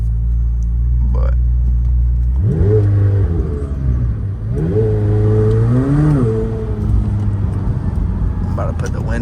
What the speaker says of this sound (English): I don't know if y'all can hear the turbos.